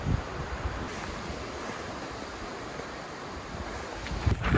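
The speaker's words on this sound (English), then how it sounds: "that's a good water source right there." Water at a trail water source on the Pacific Crest Trail rushes and washes steadily close to the microphone, a broad continuous wash with some wind buffeting and no voices.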